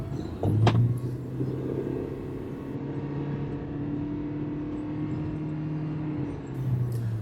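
Inside a car on an Italian autostrada merging lane, a steady engine hum and road rumble continue at moderate level, with a few bumps near the start and end.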